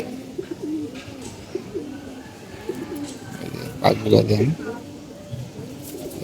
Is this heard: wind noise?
no